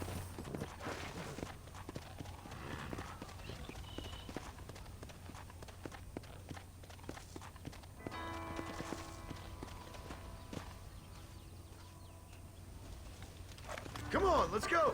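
The father's horse in Red Dead Redemption walks along with steady clip-clopping hooves beneath game ambience and character voices, and a louder burst comes at the very end.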